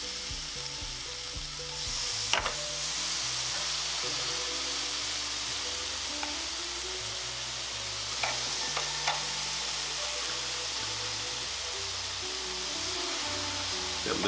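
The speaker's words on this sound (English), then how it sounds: "Oh, hear that sizzle." Chicken sizzles on a Chefman indoor smokeless grill, giving a steady, close hiss that continues throughout with a few light clicks and scrapes as the pieces are placed.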